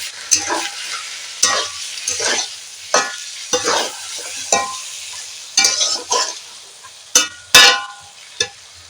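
Flat beans sautéed in a pan for a bean paturi, stirred with a spatula, giving repeated scraping bursts over a low sizzle, close and fairly loud, with brief gaps between strokes and no talking.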